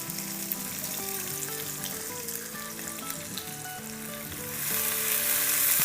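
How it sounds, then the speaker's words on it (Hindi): Diced onion and crushed garlic sauté in a hot pan with a steady, dense sizzle that swells louder toward the end, close to the mic and uninterrupted by any voice. "इसको सौटे करेंगे"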